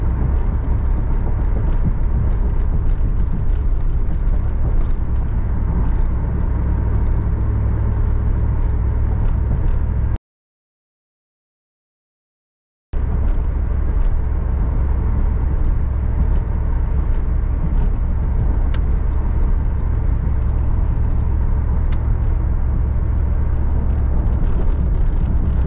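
A 1994 Chevrolet Camaro Z/28 driving on the road, a steady loud low engine rumble and road noise heard from inside, briefly cut to silence partway through.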